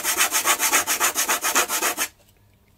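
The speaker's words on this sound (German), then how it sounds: "Das schleife ich jetzt mal eben hier" Rapid rhythmic sanding strokes on a model glider wing, about a dozen quick back-and-forth rubs on a hard surface, close and steady, then abrupt stop into near silence.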